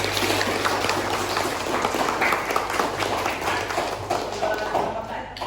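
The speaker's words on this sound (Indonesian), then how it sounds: "Tepuk tangan untuk kita semua." Clapping in a school classroom during a Quran recitation lesson on idgham rules, steady dense applause from a group of students close by, continuous for several seconds.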